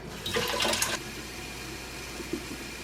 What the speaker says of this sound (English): And then you just add water.